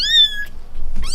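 A newborn orphaned kitten gives two thin, high meows, one at the start and another at the end, close and fairly loud with a quiet pause between them.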